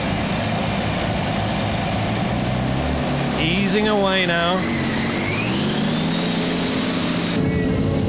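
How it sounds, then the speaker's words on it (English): A 4.4 modified pulling tractor powered by three Rover-built Rolls-Royce Meteor engines, competing at a 1994 European tractor pulling event in Holland, gives a deep, heavy engine drone that rises as it eases away, under an announcer's commentary. "3 Rolls-Royce Meteor engines built by Rover, puffing and puffing their way up the course"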